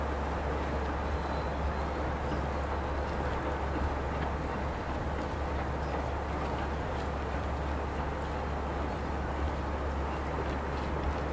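Heritage steam train hauled by the locomotive Melior rolling into Kemsley Down station on the Sittingbourne & Kemsley Light Railway, a steady close rumble of wheels and running gear with no talk.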